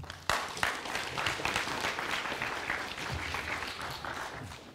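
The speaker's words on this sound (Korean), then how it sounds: "큰 박수로 맞이해 주시기 바랍니다" Audience applause at a school admissions briefing, welcoming the head of the military specialization program: a sharp onset, then many hands clapping steadily, moderately distant and fading slightly toward the end.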